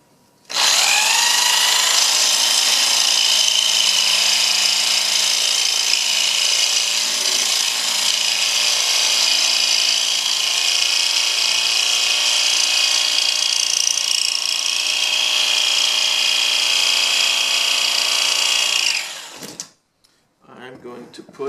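A power tool cuts wood for wing brackets with a loud, sustained high whine, starting abruptly and running steadily for about eighteen seconds before winding down, followed by brief handling noise.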